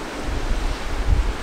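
Sea waves wash below a hotel balcony in Croatia, a continuous broad roar of surf mixed with gusty wind buffeting the microphone, loud and steady with no talk.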